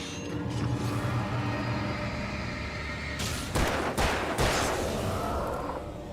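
Gunfire in the video game Alan Wake: after a few seconds of low mechanical rumble, several sharp loud shots crack out in quick succession, close and distinct.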